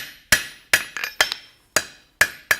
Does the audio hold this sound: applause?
no